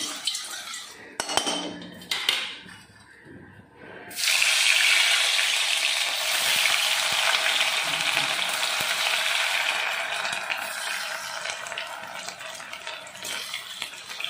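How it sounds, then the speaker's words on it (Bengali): Cauliflower pieces seasoned with soy sauce and salt fry in a pan, a steady loud sizzle starting abruptly after a few seconds of quieter clatter and continuing without pause. "দিয়ে এবার এগুলোকে ফুলকপিগুলোকে ভেজে নেব।"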